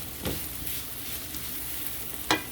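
Onions softly sizzle as they sauté in a pan while radish and egg are cooked at home, a quiet, steady hiss broken by two brief scraping stirs.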